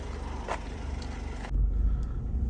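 A Honda CR-V's 2.2 i-DTEC diesel engine with automatic gearbox and all-wheel drive rumbles low and steady, growing heavier and deeper partway through as the vehicle drives on.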